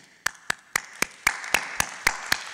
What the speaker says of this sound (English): I just wanted to give you a bit of an applause